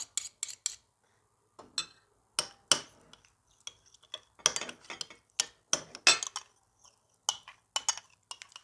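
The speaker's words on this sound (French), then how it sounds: "Mélangez bien votre moutarde avec votre ketchup" A spoon clinks and scrapes against a bowl while mustard and ketchup are mixed, in irregular bursts of sharp taps with short quiet gaps between.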